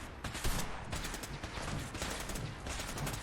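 Rapid, dense gunfire from a low-capacity weapon in the video game Fallout 4, a continuous loud burst of overlapping shots lasting a few seconds with no pauses.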